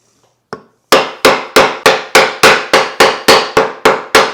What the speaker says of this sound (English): take the larger chisel and just basically sever the fibers on the side